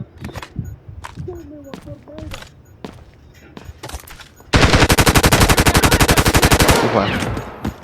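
Loud, rapid automatic gunfire from the Delta Force Mobile shooter game, a sustained burst of evenly spaced shots following scattered single thuds and footsteps, with a short voice heard earlier.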